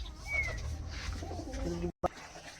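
Soft cooing of Kamagar pigeons in a loft mixes with other birds and a voice nearby, ending in a brief dropout and a bump.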